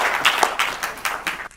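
A science-communication competition audience breaks into brief applause for a contestant, a short burst of crowd clapping in uneven surges that cuts off abruptly at the end.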